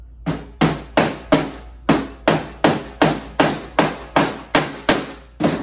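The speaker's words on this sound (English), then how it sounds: "Then you'll take one of your 3/4 inch brads" A hammer drives a 3/4 inch brad through PVC into wood with about fourteen sharp, evenly spaced strikes, close and loud, each with a brief ringing decay.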